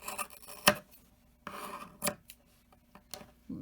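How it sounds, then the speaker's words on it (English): Scissors trimming the loose strands of a yarn tassel made with a tassel maker, giving a few crisp, close snips separated by short pauses, with no talking. "So we're going to give it a little trim here"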